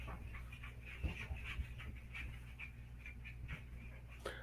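A dog whimpers and pants close by in a quiet indoor room, giving a run of soft, breathy pants broken by brief high whines, with a faint background hum.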